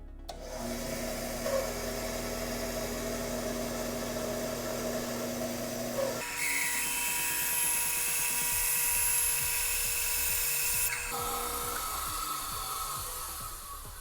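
Power saw ripping a wooden board lengthwise down the middle, a sustained high whining tone that shifts pitch as the blade bites and changes load, steady and close with no talking.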